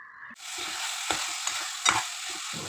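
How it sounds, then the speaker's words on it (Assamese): Brinjal slices frying in a pan, a steady broadband sizzle that starts abruptly and holds loud and close, with a few faint clinks of stirring on top and no voices. "মই চব্জি বনাই আছোঁ আৰু বেঙেনা ফ্ৰাই কৰিছোঁ"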